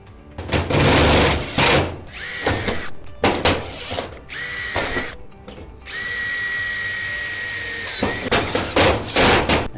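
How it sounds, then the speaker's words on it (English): A power drill drives wafer tek screws into a steel shed barn door in several loud, close bursts, with a whining motor, a longer steady run and clatter from the metal in between. "then drill and put a couple of wafer tech screws in there to secure it"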